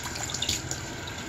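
Tap water running into a sink while a makeup container is rinsed out, a steady close splashing hiss with small bursts of spatter, no talking.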